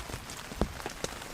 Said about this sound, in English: the rain ended up coming a couple hours early